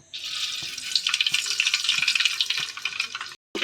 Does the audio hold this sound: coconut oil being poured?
yes